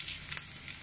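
Green chillies and ginger fry in hot oil in a pan over a raised flame, giving a brief, soft, continuous sizzle with a couple of faint crackles.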